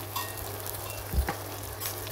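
Onions with curry leaves frying in a pan for a lemon dal tadka, a steady close sizzle with occasional stirring scrapes and a brief louder clatter midway, no one speaking.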